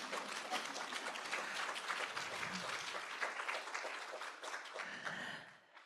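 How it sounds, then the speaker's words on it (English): An audience at an artist talk breaks into dense, sustained applause that holds steady, then tapers off in the final second. "go ahead and clap"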